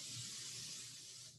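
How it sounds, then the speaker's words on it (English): Pam oil baking spray hisses steadily onto a baking pan over a sink, one continuous close burst that tapers off near the end. "I do want to opt with just my baking spray tonight"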